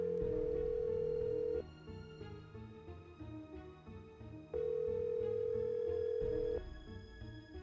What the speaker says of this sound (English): Oh, we can call Bess.